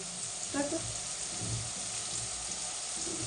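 Onions frying in a pan give a steady, soft sizzle throughout, with a brief burst of clatter early on and faint noise from the kitchen around it.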